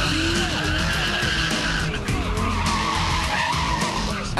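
Rally car tires skid and squeal on a stage of the 2005 Queensland Dutton Rally, the loud engine roaring alongside a sustained screech of burning rubber that stays close and continuous.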